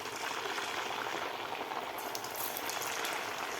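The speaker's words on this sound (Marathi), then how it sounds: "आता बाकीसुद्धा आपल्याला अशा प्रकारे तळून घ्यायचे आहेत राहिलेले." Sabudana vadas bubble as they deep fry in oil, a soft, continuous frothy hiss with faint crackles and light ticking near the end, quiet and without voices.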